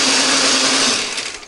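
A blender grinds candlenut, garlic, shallots and pepper with a little water, a loud steady whirring buzz that holds for about a second before thinning and wavering as the load shifts.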